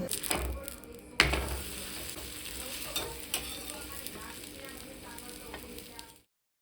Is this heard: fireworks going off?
no